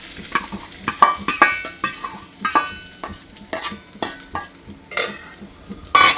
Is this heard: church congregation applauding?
no